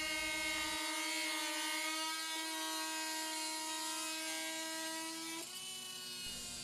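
A Starlock oscillating multi-tool runs steadily with its blade cutting, giving a loud, close, continuous buzzing hum with a strong tonal whine that shifts slightly partway through.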